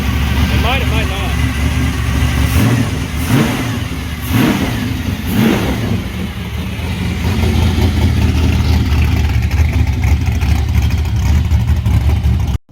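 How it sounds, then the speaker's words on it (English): A Chevy Nova engine on Holley Sniper EFI fuel injection runs for the first time, idling loudly up close with a few throttle blips that rise and fall, while people talk over it. "That's the Nova running on EFI for the first time."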